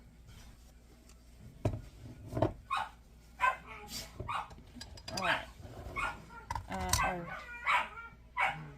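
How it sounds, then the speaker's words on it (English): Dogs just in from playing outside bark in a kitchen during sourdough baking, a series of sharp barks and yips spread across the clip, fairly close, with a person speaking briefly among them. "The dogs have come in from playing outside."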